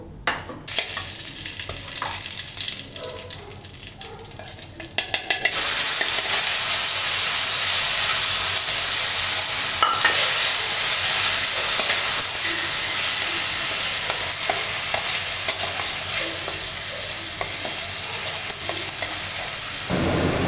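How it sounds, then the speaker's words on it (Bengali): Spices (dried chilli, cumin powder, turmeric and salt) stirred and frying in a hot kadai, starting with a few scraping stirs, then a loud, steady sizzle that runs on without a break and no talk. "এটা দিয়ে আমি এখন কড়াইতে নাড়াচাড়া করব।"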